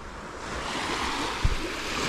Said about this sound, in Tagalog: Ganda ng dagat, oh.